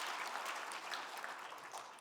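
Audience applause in a church during a guest pastor's visit: steady, dense clapping from a crowd, continuous and fairly loud throughout, fading slightly at the end.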